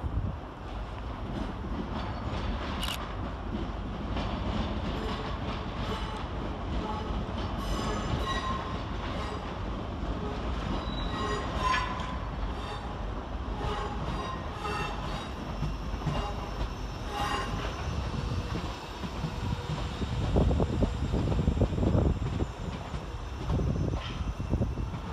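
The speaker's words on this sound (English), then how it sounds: "Next train in to terminate with a ScotRail service off of Helensburgh Central is" A ScotRail train rolls into Edinburgh Waverley railway station, with steady rail rumble and wheel noise, brief squeals, and wind buffeting the microphone, swelling louder toward the end as it draws close.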